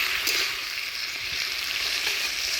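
Gourd leaves and vegetables sizzle steadily in a hot pan while being stirred, a continuous close hiss with light scraping touches throughout, no voices.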